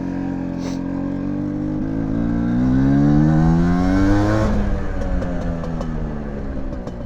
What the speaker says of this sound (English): I have to rev the engine, line up the gears, and pop it into first